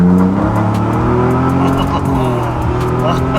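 Tuned 2018 Ford Raptor truck at its 500 horsepower setting accelerating hard on a first drive, engine loud and rising steadily in pitch, heard from inside the cab.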